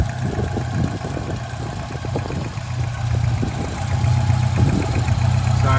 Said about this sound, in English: obviously the engine is running and it sounds really,